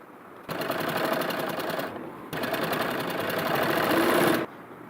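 Sewing machine stitching lace along a blouse edge, two steady close runs of fast even clatter with a brief pause between them.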